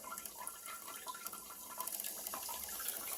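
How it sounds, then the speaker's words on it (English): A Brondell Fresh Spa bidet lets out a low, steady dribble of water, a soft continuous trickle close by with no talking. "So that gets it to about that much water dribbling out."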